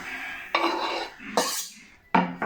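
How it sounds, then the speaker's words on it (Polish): Metal cooking pots clatter and clank as one is swapped for a larger pot during cooking with thinly sliced bacon, in three sharp, loud bursts separated by short pauses. "Muszę garnek zmienić, bo ten jest za mały."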